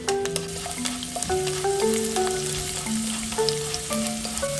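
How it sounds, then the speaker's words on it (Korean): Small whole garlic cloves fry in butter in a pan, giving a steady, close sizzle with light stirring. Soft melodic background music plays throughout. "제일 먼저 마늘 버터 좀 볶아줄게요"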